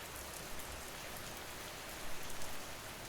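Steady, dense rainfall patters continuously on surfaces as a soft, even hiss with no pauses or voices.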